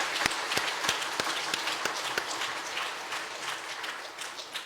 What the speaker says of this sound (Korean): 박수로 우리 하겠습니다